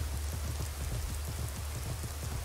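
Steady, dense rain falls in the video game Skyrim under a cloudy sky, a continuous hiss of droplets with a low rumble beneath, even and fairly loud with no voices.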